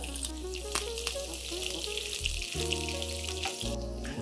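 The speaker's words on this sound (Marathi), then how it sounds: "एक मोठा चमचा जिरं, कढीपत्त्याची पानं एक 10-12, एक 8-10 आपण ठेचलेल्या लसणाच्या पाकळ्या त्या सगळ्या फोडणीला देऊया" Cumin, a handful of curry leaves and crushed garlic cloves sizzle in hot oil as a tempering for moong dal, a steady close crackle running under background music.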